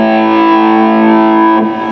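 An electric guitar through overdrive distortion holds a thick, sustained chord loudly and close, then shifts to a new strum near the end, heard alone at a trade show.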